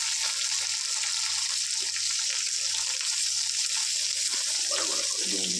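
Chopped onions frying in hot oil in a pan, a steady dense hiss and crackle running evenly throughout with a faint low hum beneath.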